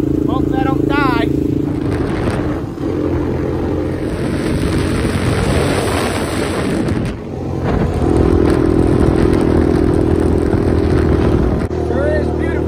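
A four-wheeler ATV engine drones continuously as it is ridden home, rising and falling a little in pitch. Someone talks over the engine noise at times.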